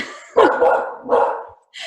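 A dog gives two close, loud barks in quick succession, followed by a short higher yip, with no talking.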